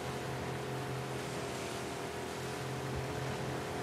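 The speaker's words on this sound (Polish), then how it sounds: "Płyniemy motorówką, motorówka gaming." A steady motorboat engine in the video game The Last of Us Part II drones continuously with a low hum and splashing water noise, unbroken throughout.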